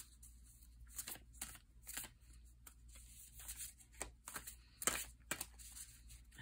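Tarot cards shuffled by hand, soft papery riffs and flicks in irregular bursts, close and quiet with no talking.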